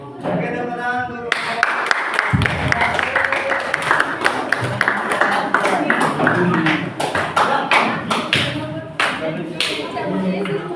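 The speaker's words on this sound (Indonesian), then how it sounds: "Oke, tepuk tangan untuk" A classroom of students claps after a group presentation, a dense run of hand claps lasting several seconds at steady loudness, with voices mixed in underneath.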